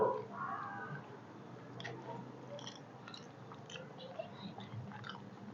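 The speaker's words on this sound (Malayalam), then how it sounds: "ഈ ഉരുളക്കിഴങ്ങും മസാലയും മിക്സ് ചെയ്തിട്ട് കഴിച്ചു നോക്കാം" Someone chews a mouthful of okra (bhindi) masala mixed with potato, with close, soft, moist chewing and biting sounds repeating steadily in a quiet room, no speech.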